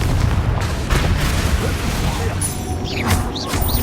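In the Hogwarts Legacy video game, a Confringo spell explosion booms through constant battle noise, with whooshing, swooping effects rising near the end.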